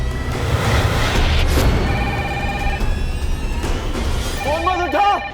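A telephone rings with steady tonal bursts amid busy, loud background noise and a voice speaking, with a warbling electronic tone near the end.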